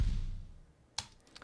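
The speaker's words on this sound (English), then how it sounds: "And then that's layered with a kick called Back to Life Kick." A single deep Back to Life kick drum sample booms at the start and decays over about half a second, followed by a few faint clicks.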